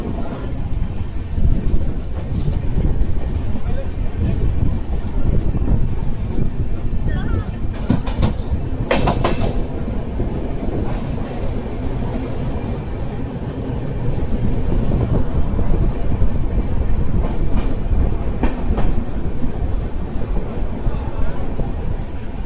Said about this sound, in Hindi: पहुंच चुके हम लोग सिवान जंक्शन, और यहाँ आई है सियालदा गोरखपुर एक्सप्रेस।